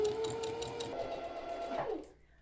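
A sewing machine stitches slowly along the curved edge of fabric for a headband, a close, rapid rhythmic clatter of the needle that winds down and stops after about two seconds.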